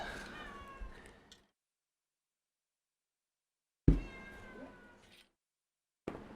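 A cat meows in two drawn-out, wavering calls separated by silence. The calls are fairly close, a third one starts at the end, and no one talks over them.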